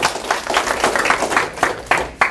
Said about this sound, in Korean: 저분한테 박수 한번 치세요